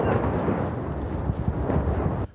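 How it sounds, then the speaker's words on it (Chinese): Explosions from Russian shelling in eastern Ukraine rumble from a distance as a continuous low, rolling boom with scattered thuds, heard without speech and cutting off abruptly. "爆炸声从远处传来，"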